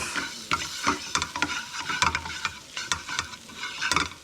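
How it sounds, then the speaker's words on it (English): Egg fried noodles seasoned with soy and fish sauce being stirred in a hot pan, giving repeated scraping and tossing strokes over a steady sizzle, close and fairly loud with no talking. "A little bit of soy. Not too much soy, it's very strong. Yep. Give it another little mix."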